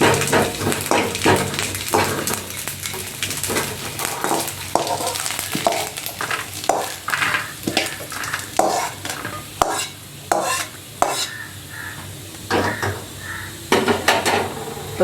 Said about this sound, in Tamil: தேங்காய் செவக்கிற அளவுக்கு வறுத்து வச்சுக்கிடணும். தேங்காய் வறுக்கணும்.